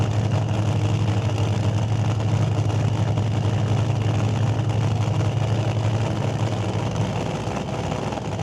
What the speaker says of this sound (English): you do get to hear the intricacies of the car as it shifts into high gear